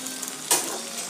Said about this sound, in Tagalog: Kumukulo na po ang ating pinakbet.